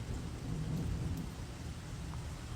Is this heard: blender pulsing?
no